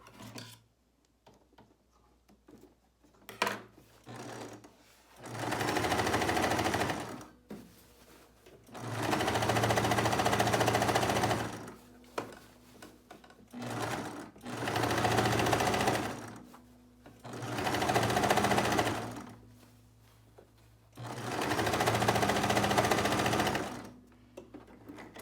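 A sewing machine stitches a fabric piece for the kitchen, running in five loud, close bursts of several seconds each, separated by quiet pauses with small handling sounds.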